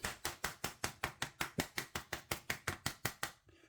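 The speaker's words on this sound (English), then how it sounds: "Then we'll pierce it." Rapid, evenly spaced sharp punctures, about fifteen in a row, pierce through thin plastic film on a food tray up close, then stop.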